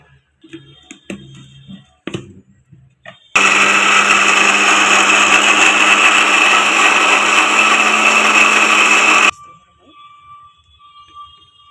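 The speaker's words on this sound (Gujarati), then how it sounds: "હવે આને આપણે ક્રોસ કરી નાખીએ મિક્સરમાં" A kitchen mixer blends strawberries with a little water and sugar, roaring loud and steady for about six seconds after a few clicks and handling knocks, with quiet handling before and after.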